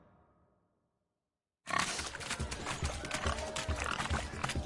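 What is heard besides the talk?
pigs grunting during a pig race in The Witcher 3 video game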